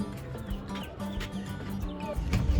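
Chickens cluck repeatedly and close by in an African village yard, a steady run of short calls that continues throughout without pause.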